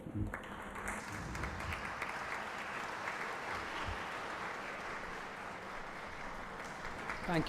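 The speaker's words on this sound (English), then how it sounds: "A standing ovation and a huge round of applause." A lecture audience gives a standing ovation, a long, even wash of moderate applause that holds steady throughout, with faint voices in the background and a slight swell at the end.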